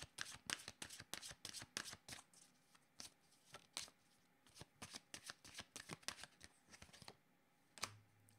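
Tarot cards shuffled by hand in rapid bursts of crisp riffling and flicking, close and fairly quiet, with short pauses between runs and no talk over them.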